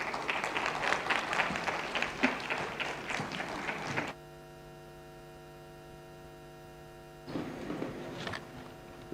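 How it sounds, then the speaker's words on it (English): Audience applause at a trade and investment forum, a dense patter of clapping from a crowd that stops into a quiet electrical hum and then resumes briefly, without speech. "A round of applause, please."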